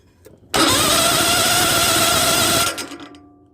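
A Toro Wheel Horse 14 lawn tractor engine cranks briefly, then catches and runs loud and steady for about two seconds before cutting off abruptly, leaving a fading tail.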